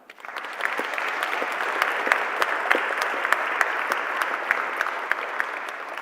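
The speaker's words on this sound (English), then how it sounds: "Let's give them another round of applause." Sustained round of applause from a seated audience at a ministerial summit, dense steady clapping filling the room for about six seconds with a few louder individual claps standing out.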